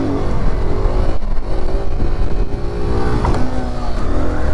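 A stunt motorcycle revs hard during a wheelie on a practice lot, the engine held loud and close with rising and falling throttle pitch, a continuous roar for several seconds with no talk.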